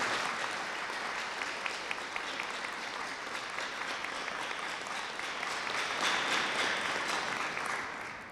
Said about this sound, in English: would you like to applaud for your family and friends?